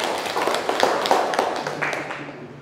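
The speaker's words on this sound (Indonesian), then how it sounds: "Sekali lagi tepuk tangan" Audience at a talk on global warming claps in a short, loose burst of applause with scattered individual claps and a voice speaking underneath.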